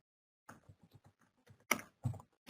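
Computer keyboard typing while entering a natural-language analytics query, a few quiet scattered keystrokes followed by several louder, sharper clicks, close and alone with no talk.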